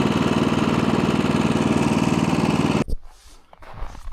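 Honda HSS1332 snowblower engine running with the auger engaged, a loud close chugging drone that cuts off abruptly about three seconds in, leaving faint rustling and low clatter.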